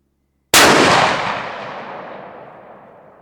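A single loud rifle shot from a Ruger Gen 2 chambered in 7PRC, fired at a range, cracks sharply and then rolls off in a long fading echo.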